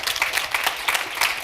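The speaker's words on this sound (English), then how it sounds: "Give her a big round of applause." A brief burst of audience applause at a panel event, with many hands clapping in a dense, even patter.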